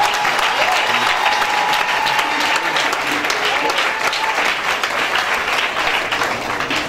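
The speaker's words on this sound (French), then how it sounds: "On acclame le Seigneur pour lui." A church congregation applauds steadily and loudly in praise, a dense wash of clapping that holds without a break for several seconds.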